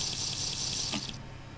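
Water runs in a steady hiss as a character drinks cold water from an icy biome in the survival game Nature Hates You, then fades out abruptly; no one speaks.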